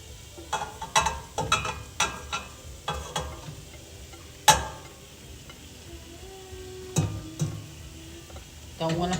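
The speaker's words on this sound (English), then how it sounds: "So now we're gonna add the chicken into the pot." Chicken pieces in melted butter in a pot are stirred, and a spoon scrapes and clanks sharply every second or so over a soft, faint sizzle, with a few louder knocks.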